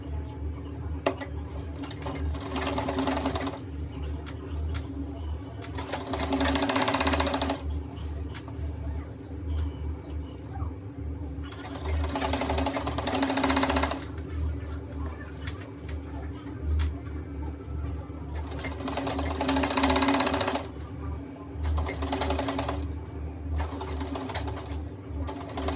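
Domestic sewing machine top stitching a trouser pocket facing, a steady mechanical whir running in several long bursts with short pauses between, moderately loud and close with a constant low hum underneath.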